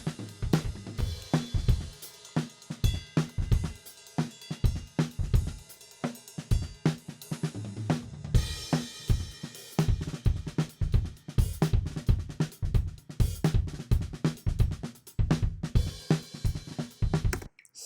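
Music with standard compression applied, punchy rhythmic hits with a bright top end playing continuously at moderate volume, with no voices over it.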